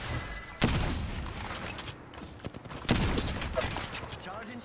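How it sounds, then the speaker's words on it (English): Gunfire from enemies in the Apex Legends video game, with loud bursts of rapid shots and thuds coming in several clusters over a dense, busy game soundscape. "The enemies are shooting."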